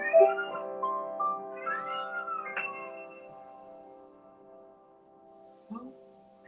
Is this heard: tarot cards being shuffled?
no